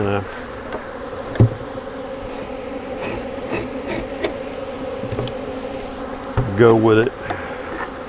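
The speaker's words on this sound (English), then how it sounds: "Let these bees have it that's in there" Honey bees buzz steadily at a hive during a honey harvest, with one louder close pass near the end and a few brief spoken words.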